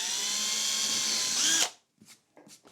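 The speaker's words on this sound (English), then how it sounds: "Now I've marked a point where I need to pre-drill a hole." A power drill pre-drilling a hole in wood whines at high speed for about a second and a half, then stops abruptly, followed by a few faint knocks.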